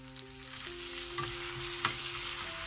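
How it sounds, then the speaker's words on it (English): Coriander frying in hot oil as a tempering for brown rice masala pongal, a steady close sizzle and crackle with faint stirring, no voices. "Let it fry, saute a little bit."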